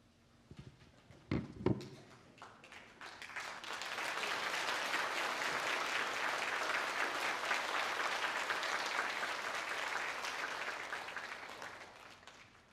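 A church congregation breaks into sustained applause during a Sunday worship service, a few sharp claps at first swelling into a broad, steady wash of clapping that holds for several seconds before tapering off.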